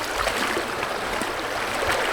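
Water in a Colorado creek like a trout stream flows in a continuous close rushing wash with small gurgles, steady and unbroken.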